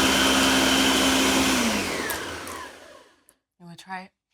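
A kitchen blender whirs loudly while mixing a vanilla drink, its motor pitch sliding down as it winds to a stop. Brief speech follows after it falls silent.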